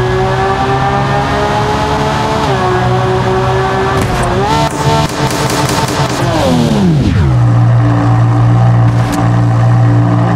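A Lamborghini sports car's engine in BeamNG.drive drones loud and close in a steady high rev, climbs in pitch, then drops sharply as it shifts or backs off, and settles into a lower steady hum.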